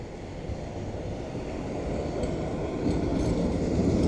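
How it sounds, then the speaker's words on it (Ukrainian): A tram rolls along a city street in Dnipro, its steady rumbling rail noise building gradually and staying loud throughout. "Трамваї їдуть."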